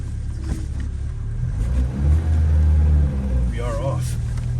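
Classic 1973 BMW 2002tii pulling away on a wet road, heard from the passenger seat as a low engine rumble that swells while accelerating, then eases off, with a voice briefly heard near the end.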